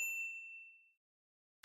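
A single bright notification bell ding rings out clearly and fades over about a second into silence, followed by a brief low thump at the very end.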